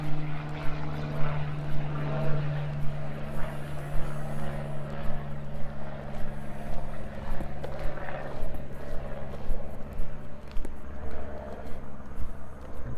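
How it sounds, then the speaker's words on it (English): A small propeller-driven airplane passing overhead on an August evening in a residential Regina neighbourhood, a steady droning hum with a low tonal engine note holding throughout, moderately loud over faint street ambience. "airplane just went over."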